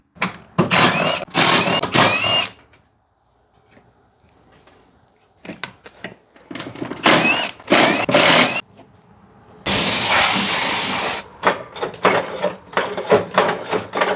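Air blowing debris off the deck of a Troy-Bilt riding mower comes as loud, stop-start hissing bursts, mostly short and choppy, with one longer steady blast and quiet gaps between.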